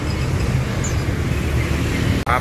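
A train rolls past near a bus ticket office, giving a loud, steady rumbling roar that fills the whole moment and cuts off abruptly at the end.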